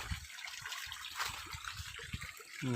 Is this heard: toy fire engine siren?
no